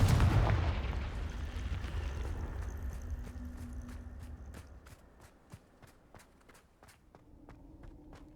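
Confringo spell blasts in the Hogwarts Legacy video game start with a heavy booming burst, then a rapid series of sharp cracks and impacts as the rumble fades.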